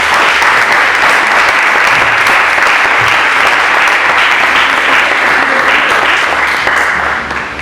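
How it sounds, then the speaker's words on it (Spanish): A large crowd claps loudly and continuously for several seconds, the applause evenly sustained before easing slightly at the end. "denle un aplauso a nuestro Rey"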